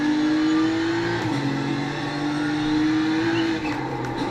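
A BMW M4 GT3 race car in the iRacing sim on the Nordschleife, its engine droning loudly and steadily, the pitch dropping sharply as it downshifts and then climbing again, with no talk.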